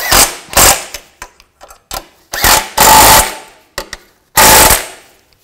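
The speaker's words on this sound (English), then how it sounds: "And tighten these bolts up. And tighten these nuts down." Bursts of rapid, loud ratcheting from a power tool tightening bolts and nuts on a 2007-2016 Chevy Traverse front catalytic converter, several short and longer close rattling runs separated by silences.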